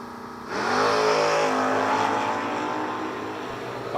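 Drag race cars launching side by side, a Mustang among them, roar up loudly after a brief quiet, a dense sustained engine blare with rising harmonic tones that holds steady and close for several seconds.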